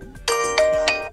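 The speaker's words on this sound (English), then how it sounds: "Or select one of those system ringtones" The Dreamy Jazz system ringtone on an OPPO A79 phone plays as three bright, bell-like chime notes struck in succession, each ringing on and overlapping, clear and alone.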